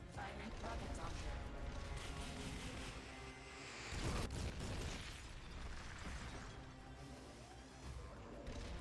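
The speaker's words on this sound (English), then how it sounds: "Firing rocket launcher." Rocket launcher firing and exploding in Metal Gear Solid: Peace Walker, a loud burst and crashing blast midway through dense game action, with a voice talking over it.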